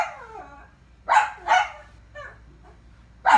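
Several dogs bark in the background in short, separate bursts, a few loud yaps spaced through a quiet room with no talking.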